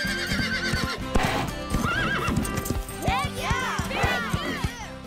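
Cartoon horse cantering with steady clip-clop hoofbeats and several rising, wavering neighs and whinnies, loud and close, with a voice speaking over parts of it.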